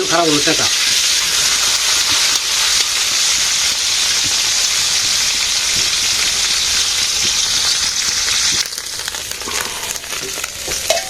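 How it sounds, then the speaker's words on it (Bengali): Freshly caught fish fry in a pan in a village kitchen, a loud, dense, continuous sizzle and spatter that eases slightly near the end. "মাছ ভাজি হয়ে গেছে"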